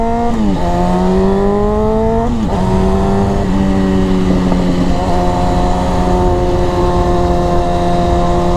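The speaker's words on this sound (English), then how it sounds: "It is really hard to beat the sound of an old Japanese inline 4, especially with an exhaust on it" A 2006 Honda CBR600F4i inline-four sportbike fitted with an aftermarket exhaust, its loud, steady engine note rising and falling through several revs and then settling into a held tone, with no voices.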